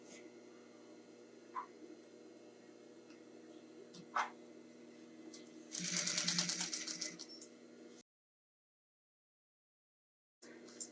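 A domestic sewing machine top-stitching down the side of a roll-up tote bag, heard as a short, fairly quiet burst of running stitches after a few faint clicks, then cutting off into silence.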